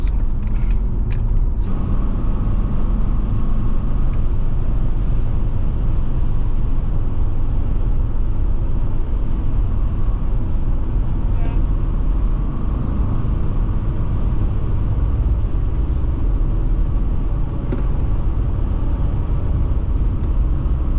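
Mercedes C-Class W203 driving on the Nürburgring, a continuous low road roar of tyre noise and engine rumble from inside the car, with a few brief clicks and knocks early on.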